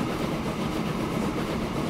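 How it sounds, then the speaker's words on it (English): A crude oil freight train in the Transport Fever game runs slowly at about 30 miles an hour, its steady rail rumble and soft clickety-clack carrying on evenly throughout with no voices. "this is our crude oil train"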